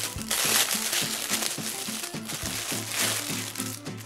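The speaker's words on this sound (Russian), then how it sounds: "Запакована она еще в один вот такой вот пакетик. Давайте откроем и его." A small plastic packaging bag is torn open and handled up close, giving continuous crinkling and rustling over a repeating low musical loop in the background.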